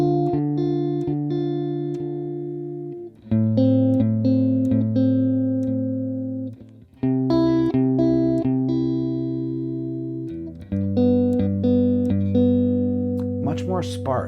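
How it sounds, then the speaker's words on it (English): An electric guitar plays sparse sustained chords outlining major and minor thirds, each ringing out and decaying before the next strike, with a few quick picked notes; close and moderately loud with no voices. "So here's the guitar part from that recording."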